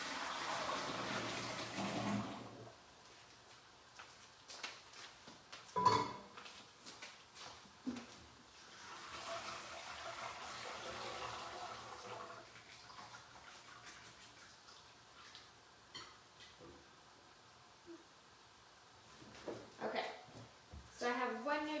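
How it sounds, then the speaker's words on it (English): Hot gluten-free pasta cooking water pours through a strainer into a bowl, a rushing burst at the start and another midway, with quieter clatter and handling noises between, all up close. "let me strain these real quick"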